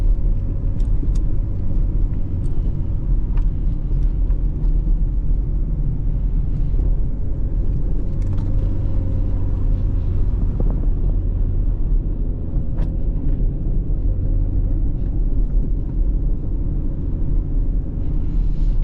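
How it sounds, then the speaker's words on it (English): A front-wheel-drive car drifts on a snowy road, heard from inside as a steady low engine rumble and road roar that swells and eases, with occasional faint knocks and no talking. "it's definitely a lot more fun drifting in the snow with a front wheel drive car than people make it out to be"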